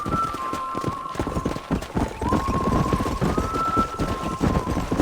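Horse hooves galloping in the video game Red Dead Redemption, a steady rapid clip-clop rhythm running throughout, close and loud, over a sustained musical tone with no speech.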